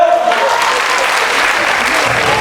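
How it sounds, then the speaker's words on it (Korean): A student audience at a Kangwon National University Samcheok campus stage competition gives steady, dense applause that holds at full strength throughout, with a faint voice briefly audible at the start. "박수 부탁드려요"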